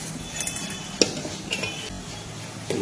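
Ladle scooping dal from a pot onto rice, with a few soft metallic scrapes and clinks over a faint background, no talking.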